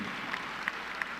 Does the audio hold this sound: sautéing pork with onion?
no